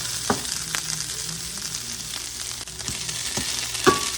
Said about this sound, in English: I'm going to let this just sit and cook for a while.